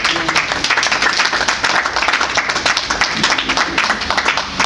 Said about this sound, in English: Can we give all of them again a hand of applause?